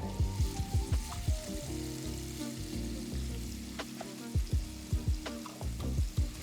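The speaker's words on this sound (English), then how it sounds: "add 2 medium-sized onions thinly sliced and saute well" Thinly sliced onions sauté in hot oil in a wide, deep pan, giving a close, steady sizzle with repeated low knocks and scrapes from a spoon or spatula working the pan, and no voices.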